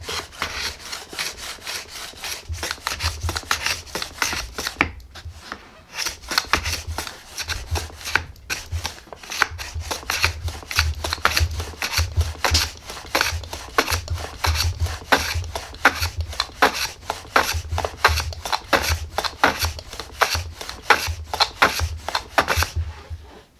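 Veritas standard angle block plane shaving wood, a long series of quick, crisp, close swishing strokes repeating at a steady rhythm with short gaps, no talking.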